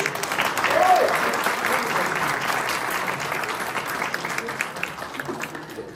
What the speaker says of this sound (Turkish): Üstün başarı belgesi veriyoruz ve alkış istiyoruz.